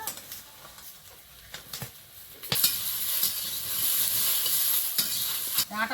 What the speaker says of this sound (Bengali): ভেন্ডিটা ভালো করে ভেজে নিচ্ছি